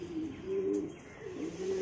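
Karna tumbler pigeons coo in low, rolling, repeated phrases, close and steady, with faint ambient noise and no talk.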